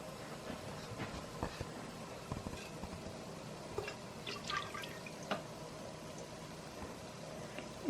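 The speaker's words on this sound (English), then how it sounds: "All right, now it's time to pour." Melted candle wax mixed with fragrance oil at 170 degrees pours quietly into a container. Faint trickling and scattered soft drips sit over a low steady background.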